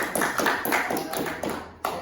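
An audience at a school talk about teachers as role models gives a final round of applause, uneven bursts of hand claps near and moderately loud, briefly fading before a last clap.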